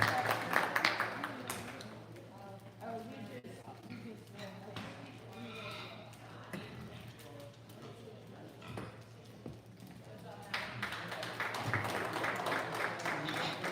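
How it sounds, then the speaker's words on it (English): A crowd at a livestock show applauding with scattered clapping and voices mixed in, steady through the clip and swelling louder near the end. "give these kids a round of applause"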